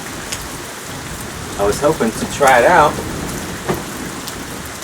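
Steady rain falls outdoors as a constant broadband hiss, with someone talking briefly over it in the middle.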